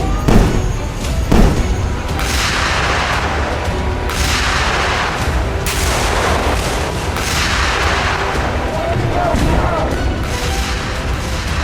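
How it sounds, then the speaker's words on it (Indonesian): Armored combat vehicles fire a salvo at a live-fire military exercise: repeated heavy booms of gunfire, several loud blasts spaced a second or two apart over continuous rumbling. "seluruh rampur melaksanakan serangan tembakan salvo untuk menghancurkan sasaran akhir"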